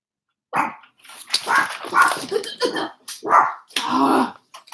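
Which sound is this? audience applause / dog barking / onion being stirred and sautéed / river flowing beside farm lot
dog barking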